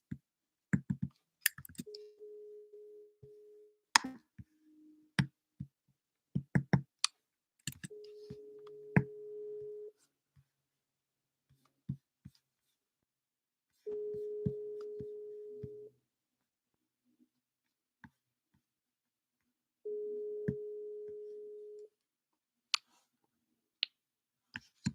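A telephone ringback tone while calling a lead, steady tone bursts repeating at even intervals with silence between, mixed with scattered clicks, no talking.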